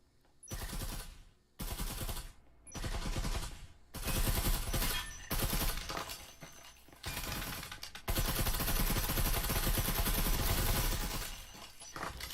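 Dense gunfire from the VR tactical shooter Breachers during a competitive match, with rapid bursts and sustained volleys of shots through a wall, loud and continuous with only brief pauses between flurries.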